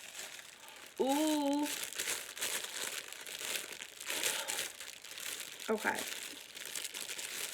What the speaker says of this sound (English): sorry, the rustling of the plastic